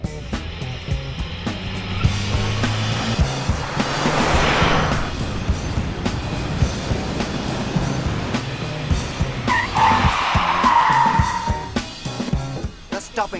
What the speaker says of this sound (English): Now let's see what the stopping distance is of a vehicle travelling at 40 kilometres an hour.